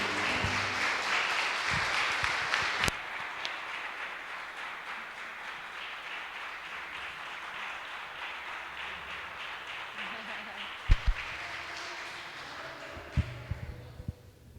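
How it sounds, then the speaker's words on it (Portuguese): A congregation claps steadily through a church worship celebration service, a dense sustained wash of hands that carries on for many seconds before thinning out, with a few sharper knocks near the end. "aplauda bem forte ao Senhor"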